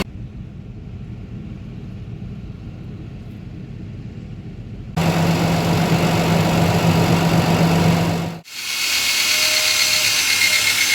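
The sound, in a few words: tractors idling while cooling down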